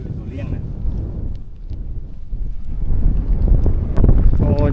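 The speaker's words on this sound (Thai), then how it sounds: "โอ้อยู่นี่มีแต่หมอกกับลม" Wind gusting across a mountain cliff in the forest at Phu Khao Khwai, roaring and buffeting the microphone steadily and growing stronger, while someone speaks over it.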